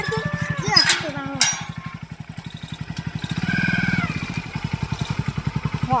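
A motorcycle engine putters with a fast, even pulse close by. It rises and falls slightly as the throttle changes, and people talk over it.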